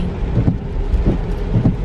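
Steady rain falls outdoors on a snowy winter day, a continuous broadband hiss with scattered low thumps of drops, fairly close and even, with no voices.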